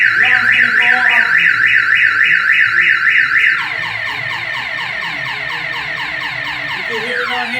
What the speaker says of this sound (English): Alarm's gonna go off.